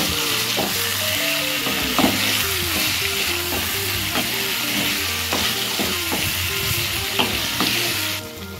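Chicken frying in a pan with turmeric powder as it is stirred, a loud, continuous sizzle close up with repeated scraping and clinking of the utensil throughout.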